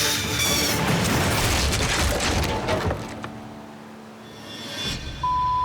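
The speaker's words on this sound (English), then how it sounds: "The cable controlling the brake snaps. Everything goes shooting into the tunnel." A brake cable snaps on mining equipment at a riverside gold dig, sending gear crashing into a tunnel: a loud, rushing clatter and rumble of metal and debris that gradually fades, then another short burst of noise.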